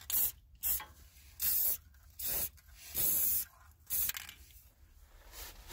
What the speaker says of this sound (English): Putting the paint on the metal.